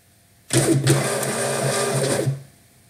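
MUNBYN RealWriter 941 thermal label printer running off a 4x6 inch shipping label, a steady mechanical whir and feed of about two seconds with no speech, starting and stopping abruptly.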